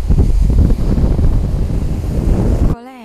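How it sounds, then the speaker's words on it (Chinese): Strong, cold wind gusts by a river in a mountain gorge at Kinugawa, Japan, a loud roaring rush buffeting the microphone that cuts off abruptly at the end. "你哋听下呢度啲风声。"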